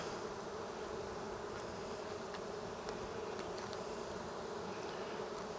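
Loud, continuous buzzing of many honeybees close by in an open hive, a thick unbroken hum with no talking.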